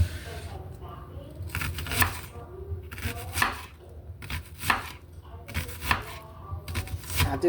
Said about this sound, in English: And I'm going to cut the whole onion because it's a small onion.